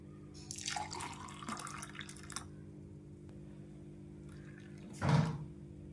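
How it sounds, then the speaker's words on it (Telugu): Juice poured from a container into a vessel already holding honey, with a soft watery splash and trickle near the start and another brief louder pour near the end, over steady low background hum. "ఇలా యాడ్ చేసుకున్న తర్వాత ఇప్పుడు మనం తీసుకున్న జ్యూస్ని ఇందులో వేసేసుకుందాం."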